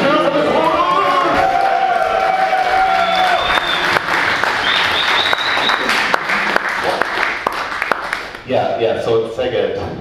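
Crowd at a live competitive coding event cheering and applauding, sustained clapping and whoops throughout with voices shouting over it.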